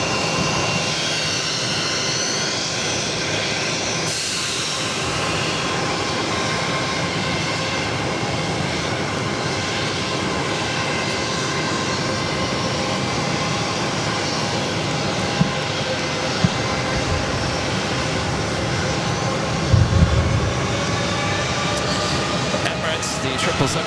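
A Boeing 777-300ER jet airliner arriving at Boston Logan, its engines a steady, broad roar that holds loud and constant throughout, with a few brief clicks near the end.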